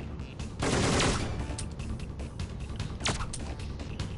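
Video game gunfire from Syphon Filter: a loud, dense burst of shots early on, then scattered sharp reports and a few spaced single shots, with no talking.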